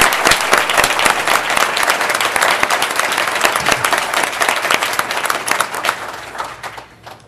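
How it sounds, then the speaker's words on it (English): An audience at a mayoral candidate forum gives a round of applause. Dense, loud clapping fills the room steadily, then thins and fades toward the end. "How about a round of applause?"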